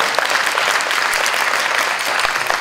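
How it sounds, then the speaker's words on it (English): Wedding guests clap together in a steady, dense round of applause that fills the room evenly from start to finish, with no clear talk over it. "Yes, you can applaud. Go ahead."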